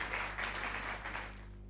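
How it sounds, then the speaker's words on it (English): An audience applauds at an agriculture and food security programme winner announcement, a dense, steady wash of clapping that fades toward the end. "Please, a round of applause for NAD Fund."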